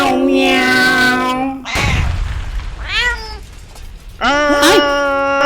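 A human voice imitates a cat meowing in a run of drawn-out, tonal meows, one after another, loud and close, with a short noisy burst between them.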